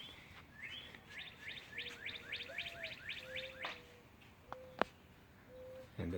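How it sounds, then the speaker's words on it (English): Songbird calling outdoors in Pennsylvania, a fast series of about ten rising chirped whistles followed by several clear steady tonal notes and a sharp click, with light ambient noise. "Just had to get that bird."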